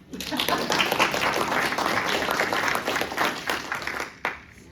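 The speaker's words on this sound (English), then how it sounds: "we can all applaud now" A civics event audience applauds a state senator, with full, even clapping that holds steady before tapering off, and a voice briefly cuts in near the end.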